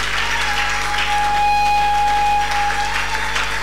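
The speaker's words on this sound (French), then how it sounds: "Acclamons le Seigneur." A church congregation at a Sunday service claps in sustained, even applause, a dense continuous patter of many hands filling the room alone without speech.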